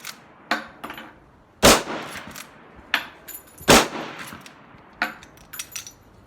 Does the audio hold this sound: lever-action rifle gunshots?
yes